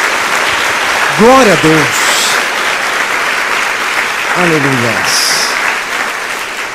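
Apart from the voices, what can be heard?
applause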